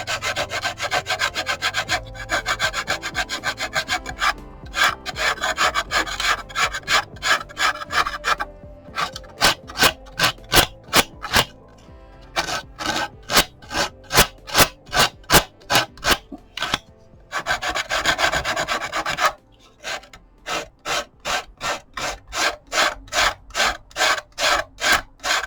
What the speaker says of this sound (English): I just go over that last little bit with a piece of sandpaper